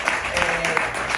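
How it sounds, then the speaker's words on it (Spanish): A live audience applauds after a talk at a discussion event, a dense, steady wash of clapping filling the brief moment with no break. "Aplausos del público presente."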